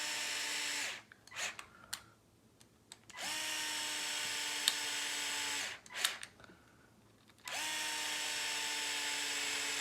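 A cordless power drill drives screws back into an RC car, buzzing in three long, steady whirring runs separated by quiet pauses and small handling clicks, close up.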